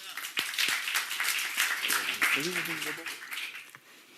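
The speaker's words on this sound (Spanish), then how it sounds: "Les pido un aplauso para todos ellos." A crowd claps continuously in a dense patter at a product launch event while a voice briefly speaks over the applause.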